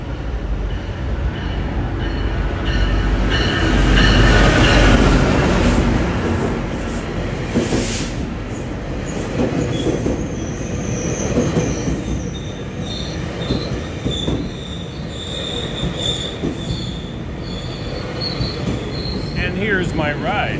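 A massive train rolls past up close on the rails, loud and sustained, with metallic wheel squeals and clattering rising and falling over about twenty seconds, no talking.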